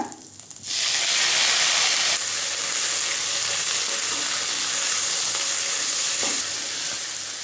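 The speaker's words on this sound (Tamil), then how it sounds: "1 கப் தக்காளியை சேர்த்துக்கோங்க." Onions and tomatoes sauté in a hot pan for radish chutney, giving a loud, steady sizzling hiss that bursts in suddenly and holds for several seconds, with no talking.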